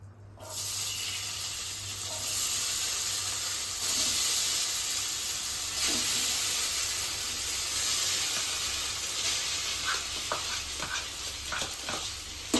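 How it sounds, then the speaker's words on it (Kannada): Soaked sago pearls hiss and sizzle loudly in a hot pan for sago payasa, a steady close frying roar with faint spatters and pops toward the end. "ಈಗ ಸಬ್ಬಕ್ಕಿನ ಹಾಕೋಬೇಕು ಇದು ನೆನೆಸಿರೋದ್ರಿಂದ ಸಿಡಿಯೋ ಚಾನ್ಸಸ್ ಇರುತ್ತೆ"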